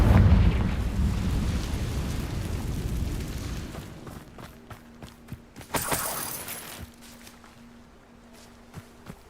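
A Confringo fire spell explodes in Hogwarts Legacy with a loud, broad blast at the start that rumbles and decays over several seconds, followed by scattered crackles and a brief bright burst midway.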